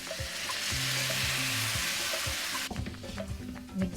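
Papaya sautés in a pan for ginisang papaya, a loud steady sizzle close by while a spatula stirs. The frying quiets midway into scraping and clattering utensil sounds.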